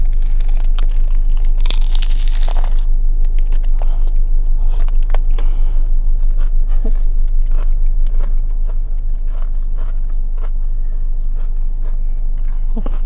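Loud, close crunching of a crisp taco with cold lettuce being bitten and chewed, repeated irregularly over a steady low rumble.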